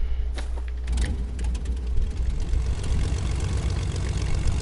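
A steady, low droning airplane engine in Fortnite hums continuously at moderate volume, a rough propeller-like rumble with no talking over it.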